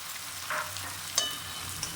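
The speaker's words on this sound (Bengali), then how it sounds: "ভেজে রাখা চিংড়ি মাছ দিয়ে দিলাম" Fried prawns tumble into a pan of raw jackfruit curry and get stirred, a close, steady sizzle broken by a soft drop and a couple of quick spatula scrapes.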